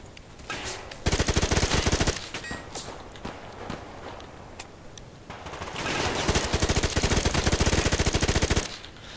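Automatic gunfire from the Survarium video game: loud, close bursts of rapid shots, with a long burst early on and a longer sustained volley near the end, separated by scattered single shots and footstep-like clatter.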